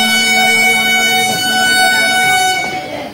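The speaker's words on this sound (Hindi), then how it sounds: "अपनी ट्रेन का भी गाइस हॉर्न हो चुका है, चल पड़ी है ट्रेन" Horn of the Delhi Haridwar Express, an unreserved express train, sounding as it departs: a long, steady, loud tone with strong harmonics that holds for about three seconds, with station noise underneath.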